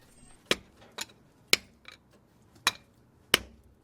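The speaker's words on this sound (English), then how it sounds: "Bigger hammer is gonna make the job much faster." Sharp metallic blows from a large hammer on a Toyota Tacoma CV axle ring out one at a time, about six strikes at slightly uneven intervals, loud and close with quiet gaps between.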